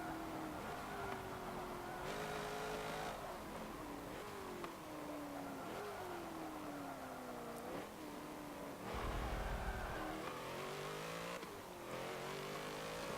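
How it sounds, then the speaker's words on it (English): A 2013 Subaru BRZ in Forza Motorsport 7 accelerates hard, its engine climbing through the revs in repeated rising sweeps with brief drops at each gear change, loud and steady throughout with no talk. "as you can see, certainly not the quickest accelerating car that we've had on this series"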